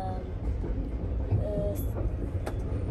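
A passenger train rolls and slows toward a station with a steady low rumble of wheels and carriage, a few faint squeals and clanks over the drone, heard from on board.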